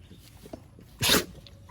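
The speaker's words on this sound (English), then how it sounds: "You sneezed on my foot" A dog gives one short, sharp sneeze close by after a few faint snuffles and small sounds, then goes quiet.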